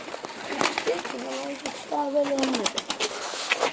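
Pigeons coo nearby in a couple of soft, warbling phrases amid rustling and some background noise.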